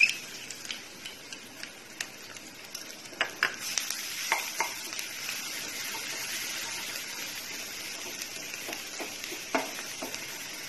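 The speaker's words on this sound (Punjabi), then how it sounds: "ਆਇਨ ਹੁਣ ਭੁੱਜ ਚੁੱਕੀ ਹੈ, ਆਪਾਂ ਇਹਦੇ ਵਿੱਚ ਅਦਰਕ ਲਸਣ ਦਾ ਪੇਸਟ ਪਾਵਾਂਗੇ।" Ginger garlic paste frying in a hot pan with oil for a restaurant-style cheese chili, a steady soft sizzle with scattered stirring clicks and scrapes close by, no voices.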